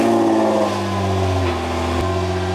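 A car fitted with an Armytrix exhaust fires up from a cold start, its engine holding a loud, close idle that shifts pitch with a brief rev before settling again.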